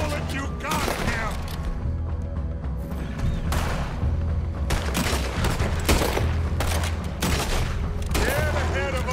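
Heavy gunfire in Red Dead Redemption 2 pounds through, with repeated loud shots and booming volleys over game music and shouting voices.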